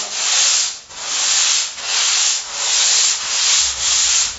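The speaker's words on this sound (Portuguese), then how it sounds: "Essa aqui é a vantagem da lixadeira, você faz muito rápido." Electric sander working over a surfboard, a loud, close, steady abrasive whir that swells and dips in regular passes, about five sweeps in a row.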